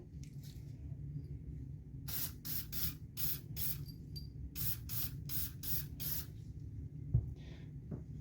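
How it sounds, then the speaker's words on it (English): Several short hissing bursts of aerosol cleaner sprayed on Kimber 1911 pistol parts in a quick series, close up, with a brief pause between groups and a small clunk near the end. "Grab a piece, give it a quick spray."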